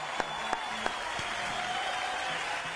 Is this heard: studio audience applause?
yes